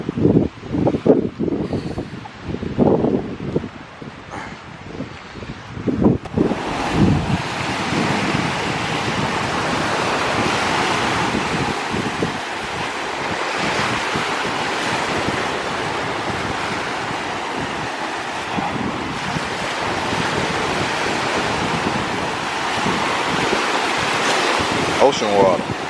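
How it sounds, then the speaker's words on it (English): Ocean surf rolls and washes steadily with wind noise buffeting the microphone, loud and continuous, with a few brief voices and bumps near the start. "Ocean water."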